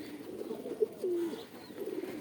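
Desi Giribaz high-flying pigeons cooing softly nearby, a few low throaty coos, one longer held note near the middle, over a quiet background.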